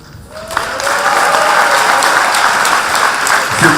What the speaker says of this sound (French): Applaudissez encore plus fort pour Philippe.